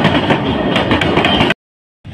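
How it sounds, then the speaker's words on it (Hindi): A train rolls past on the railway line right after a track rail was replaced, a dense, steady rumble with rail clatter that cuts off abruptly, then resumes faintly near the end. "और पहली ट्रेन भी निकल रही हमारी"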